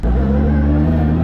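A 1000HP 3.3L 2JZ-powered S15 drift car with nitrous holds a steady, close droning engine note with strong low harmonics, heard alone for a brief moment.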